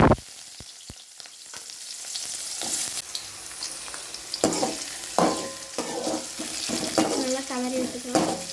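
Sliced onions dropped into hot oil with popped mustard seeds for mango rice, sizzling and hissing close by, with scraping stir strokes and clinks of a spoon against the pan.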